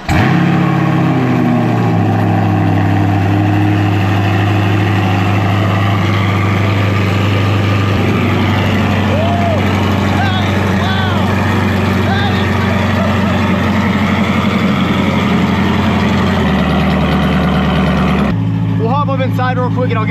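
A catless C8 Corvette Stingray engine idles loudly and steadily with a deep, rough rumble, close by, shifting slightly toward the end.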